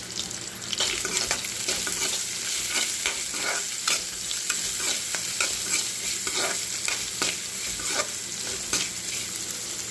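Onion, cumin seeds and dried red chilies sizzle and crackle steadily in hot oil for a dish of drumstick leaves and egg podimas, with frequent sharp pops and stirring scrapes throughout, close and continuous, no talking.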